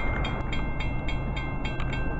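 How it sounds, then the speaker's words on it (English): Amtrak 79 passenger train rolling southbound past a trackside spot, a steady close rumble of wheels with faint rhythmic clicks over the rails, no voices. "there goes Amtrak 79, southbound by Myco"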